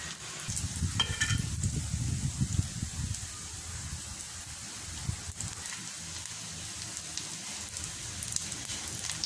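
Fish cutlets fry on a flat dosa griddle with a steady, rain-like sizzle and crackle, busier at first and then settling into a quieter, even hiss.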